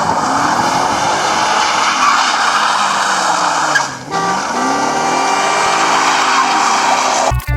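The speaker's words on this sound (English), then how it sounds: "You can hear a loud car coming." A loud car roars past close by, its engine note rising and falling in sweeping pitch bends as it approaches, dips and pulls away, with a harsh tire-squeal edge and a sudden cutoff at the end.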